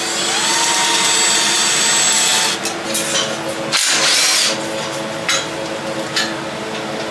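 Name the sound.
power tools in an engine workshop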